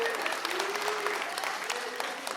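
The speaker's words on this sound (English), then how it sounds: "Oh yeah, more applause for Andy." Concert audience applauding trumpet coach Andy Wilkie at a last-day music camp concert, a steady wash of many hands clapping with a few cheers and voices mixed in, sustained through the whole stretch.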